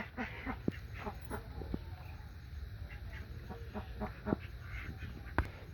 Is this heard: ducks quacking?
yes